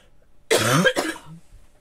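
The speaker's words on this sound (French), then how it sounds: "Non, j'ai juste toussé." A single sharp cough, close and fairly loud, followed by a brief throaty sound and quiet.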